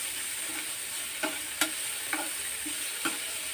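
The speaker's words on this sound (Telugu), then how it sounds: "వేసి దీన్ని కాస్త బాగా ఫ్రై చేద్దాం." Chopped vegetables fry in a pan with a steady, quiet sizzle, broken by a handful of sharp clinks as a spoon stirs and scrapes them around.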